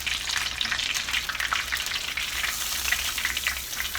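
Fish slices fry in hot oil beside an open fire, a dense, continuous crackling sizzle heard up close and fairly loud, with no voices over it.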